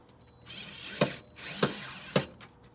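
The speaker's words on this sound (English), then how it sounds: "I'm going to go ahead and screw it in." A power drill drives a screw to mount a vehicle accessory, running in three short whirring bursts that each end in a sharp click, close and fairly quiet.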